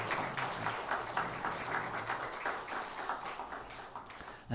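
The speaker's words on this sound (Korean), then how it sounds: "우리 수고하신 모든 분들에게 감사의 박수 하겠습니다" At an end-of-semester university chapel service at Hanyang University, the audience claps in thanks: a full, steady round of applause from many people, fairly close and continuous throughout.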